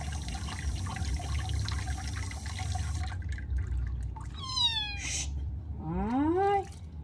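Kittens meowing while being bathed: running water and splashing fill the first seconds, then several clear, rising and falling meows follow in quick succession, close and fairly loud.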